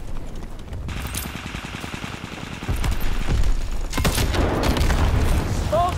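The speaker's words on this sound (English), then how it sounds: "Bomb detonated!" Bombs detonate in a Call of Duty WWII battle, with a heavy continuous roar of explosions and gunfire that grows louder midway through, dense and close.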